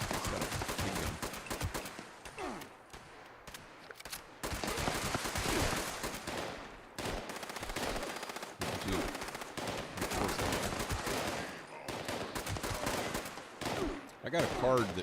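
Fallout 76 gunfire from a big gun: dense bursts of rapid shots and heavy blasts recur across most of the stretch, loud and close, with brief pauses between volleys and a player talking briefly over them.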